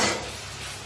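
Masala with chilli powder fries in a pan, giving a brief, steady, close hiss of sizzling oil with no voices.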